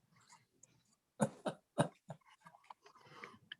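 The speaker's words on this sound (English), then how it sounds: "Anybody on there coughing or anything?" A few harsh coughs and throat-clearing bursts come in quick succession over a council meeting's remote call, faint and somewhat distant, with quiet breathing before and after.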